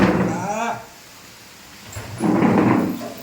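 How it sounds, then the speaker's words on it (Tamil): Heavy rain pours down in a thunderstorm, a dense, loud broadband roar, while people talk excitedly over it at the start and again near the end. "சரியான மழை நண்பர்களே இங்கே பாருங்க கொட்டி தீக்குது"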